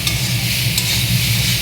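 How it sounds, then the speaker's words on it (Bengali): Food stirred in a hot frying pan, with a steady sizzle and scraping, rustling strokes of the spoon continuing throughout, close and fairly loud. "দিয়ে এটাকে ভালো করে নাড়তে হবে।"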